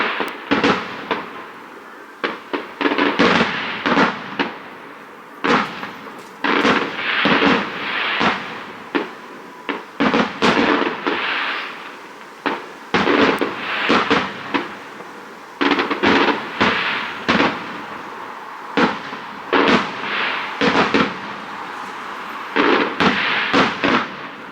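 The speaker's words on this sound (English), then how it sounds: "What you just saw there was some fireworks" Fireworks burst at night in dense, irregular volleys of loud cracking explosions, some overlapping, with short gaps between clusters across the whole stretch.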